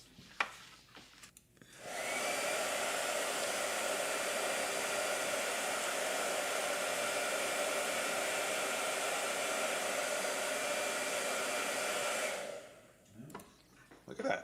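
A blow dryer roars steadily for about ten seconds, drying gouache paint on a hot press sketchbook page, starting and stopping abruptly with quiet room sound before and after.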